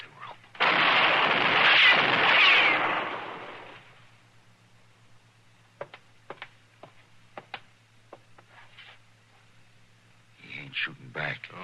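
A western shootout opens with one loud, booming gunshot blast that rolls off over a couple of seconds, followed by a few faint sharp cracks and some voices in the distance.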